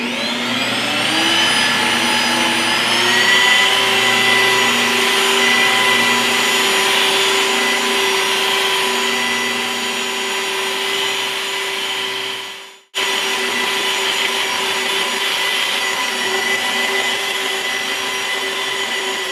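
A car paint polisher runs on the paintwork of a Subaru BRZ at a low speed setting, a steady loud whirring drone held for many seconds with a brief dropout before resuming, no talk.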